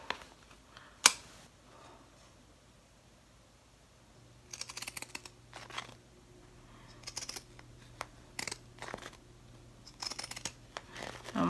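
Scissors snip fabric triangles for a Halloween pennant banner, a quiet scattered run of short crisp cuts after one sharp early click, with no talking.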